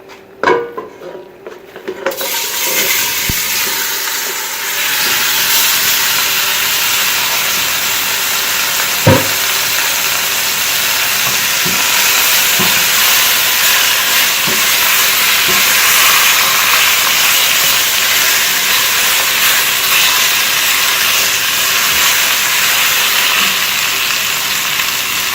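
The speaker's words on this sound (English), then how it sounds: "So first we're going to brown our beef chunks." Seasoned beef chunks brown in a hot stock pot with a loud, steady sizzle and hiss, broken by a few sharp clicks and scrapes, close and continuous with no talking.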